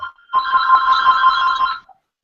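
A telephone rings once, a single bright electronic trill lasting under two seconds, moderately loud, with quiet before and after.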